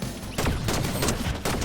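Shotgun fire in the video game Fortnite: loud, close booming blasts that open with a sharp hit, hold for about a second, then strike again near the end.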